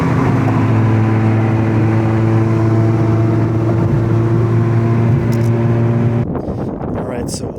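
Turbocharged VW Golf GTI running E85 fuel, its engine holding a loud steady droning note through a pull for about six seconds before the sound drops off and shifts into rougher, noisier wind and road sound.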